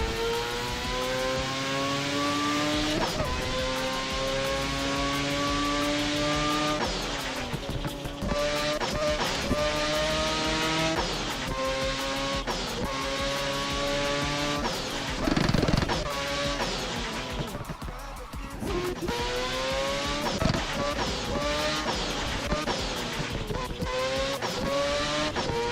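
A Mazda RX-7 FD Spirit R drifting in Assetto Corsa on a touge mountain road, its engine revving high and steadily rising and falling through gear changes, with tire squeal and skid noise running loud and close throughout.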